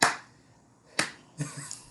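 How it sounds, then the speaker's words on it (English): Slow hand claps land one at a time roughly a second apart, crisp and close, with a softer rustle between the later claps in an otherwise quiet room. "That's a slow clap. That's me doing a slow clap for you."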